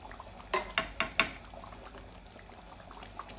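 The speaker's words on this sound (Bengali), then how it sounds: "একটু ফ্লেভারের জন্য ঘি দিয়ে দিচ্ছি এক টেবিল স্পুন দুই টেবিল স্পুন" Ghee splashes into simmering beef rezala in four quick, distinct pours or spoonfuls, each a short liquid splat over a low bubbling background, followed by quieter simmering.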